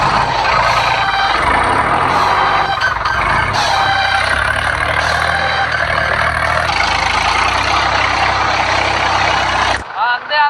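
Tractor engine labouring while stuck in a ploughed field, a loud continuous roar that holds steady for about ten seconds before cutting off, with shouting voices and farmyard sounds mixed in.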